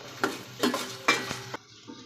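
Drumstick pieces fry in hot oil in a pan, a soft sizzle broken by three or four scraping stirs of a spoon, each stir flaring briefly louder before settling back.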